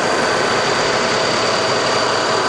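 Jolie motorbike engine running smoothly and quietly, a steady low hum close by with no change in pitch and no talking.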